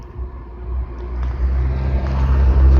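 A car drives right behind, a close, heavy low rumble of engine and road noise that swells steadily louder over a few seconds, with no talking.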